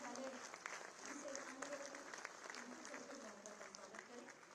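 An audience at a Uttar Pradesh police infrastructure event applauds to welcome officials, producing steady, moderately loud clapping with no one talking over it.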